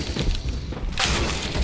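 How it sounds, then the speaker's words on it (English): An incendiary grenade thrown in the shooter game CSGO: a muffled thump followed by a bright, sharp hissing burst of flame that flares up and sustains to the end, close and loud. "Throwing fire."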